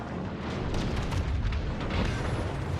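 Naval guns firing in World of Warships, a dense rumbling barrage of deep booms rolling together into a continuous heavy roar.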